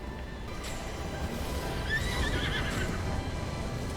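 A horse in Zelda: Breath of the Wild gives a shrill, wavering whinny amid hoof clatter and the noisy rumble of a mounted fight with a monster.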